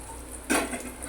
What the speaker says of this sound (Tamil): இதெல்லாம் நல்லா பொரிய விட்டுக்கலாம்.